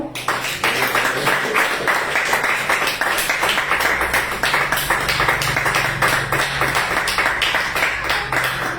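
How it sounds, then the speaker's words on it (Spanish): A church congregation claps hands together during a sermon, a dense, rhythmic run of quick claps that holds steady and loud from start to finish with no clear talking over it. "Denle esas fuertes palmas al Señor."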